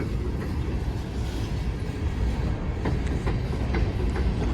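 An empty BNSF coal train passing on rails near a street in Holland, Michigan, a continuous rumble with rhythmic clicks of wheels over rail joints, fairly close, with no talk.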